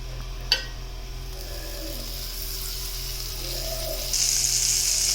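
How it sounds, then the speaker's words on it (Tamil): Butter sizzles and fries steadily on a hot dosa tawa, a soft continuous crackle that swells louder toward the end, with a single sharp clink near the start and no voices. "இப்போ ஒரு தோசை தவா ஹீட் பண்ணிவிட்டு பட்டர் ஆட் பண்ணிக்கலாம்."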